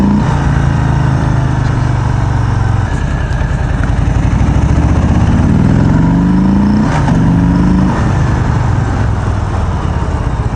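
A motorcycle engine idles and revs during a test ride through town back streets, with a steady close rumble rising in pitch a couple of times through gear changes and no talking.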